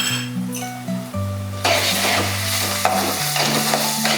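Ginger garlic paste frying and being stirred in a pan for prawn curry, a loud steady sizzle with scraping spoon strokes and a few light clinks throughout, growing denser partway through.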